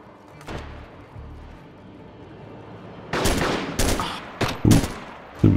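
AR-9 firing in the video game DayZ, a series of loud, punchy shots in the latter half after a quiet lull, coming in short irregular bursts with a heavy kick to each report.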